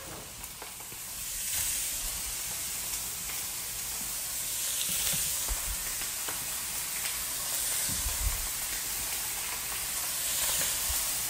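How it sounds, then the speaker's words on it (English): Food sizzling in a hot pan for a stir fry, a steady bright hiss with bursts of crackling and spatter, close and continuous, swelling and easing as the food is stirred. "So we're gonna get that nice and sizzling and ready to go"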